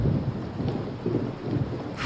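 Steady rain with low rumbling thunder in a dubbed Kannada film scene, a continuous wash of rainfall with rolling low-frequency rumble throughout and a brief brighter burst near the end; no voices.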